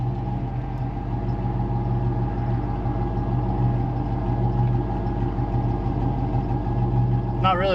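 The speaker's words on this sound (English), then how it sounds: "Let's see if the car shakes at idle." A Corvette-based skid car's engine idles steadily and smoothly close by, a continuous low rumble with a faint whine near the end and no talking over it.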